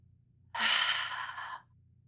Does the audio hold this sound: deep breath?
yes